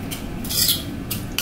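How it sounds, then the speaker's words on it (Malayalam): Potato tikka masala mixture is stirred in a bowl, close scraping and soft clinks of a utensil in short bursts. "ഇനി ഇത് നന്നായി ഒന്ന് മിക്സ് ചെയ്തെടുക്കാം"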